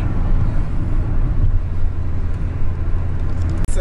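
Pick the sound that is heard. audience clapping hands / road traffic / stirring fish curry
road traffic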